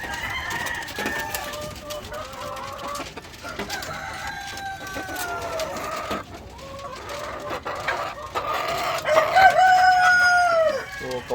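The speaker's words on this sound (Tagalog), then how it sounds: "kawawa itong manok natin" A hen with a bleeding vent, likely about to lay again, clucks on a small farm among other chickens, with rooster crowing and fowl calls layered through the scene at moderate loudness.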